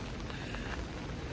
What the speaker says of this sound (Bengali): আর বৃষ্টিও পড়ছে